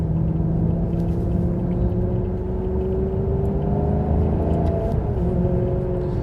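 A 2010 Maserati GranTurismo S accelerating hard in sport mode, its engine a loud steady rumble heard from inside the cabin, with the pitch climbing and then dropping at a quick gearshift, and no talking.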